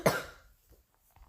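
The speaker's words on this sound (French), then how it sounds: "Désolé si je tousse" A single loud, harsh cough bursts out at the start, then quickly fades into near silence.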